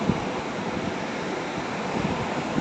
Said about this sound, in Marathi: फेसाळणा समुद्र बघा कसा.